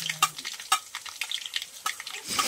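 Mustard seeds, cumin and curry leaves hit hot oil for tempering, crackling and popping in sharp irregular bursts over a light sizzle, close and fairly loud.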